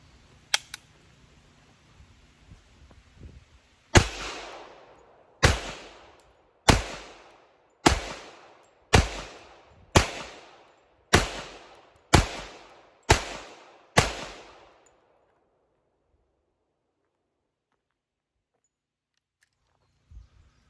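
Ten pistol shots from an FN FNX 45 Tactical and a Sig P227, double action to start: evenly spaced, loud, sharp reports roughly a second apart, each with a short decaying echo, followed by quiet.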